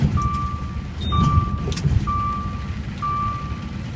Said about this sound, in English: was my Austrian toll box, and that beep, that single beep, is critical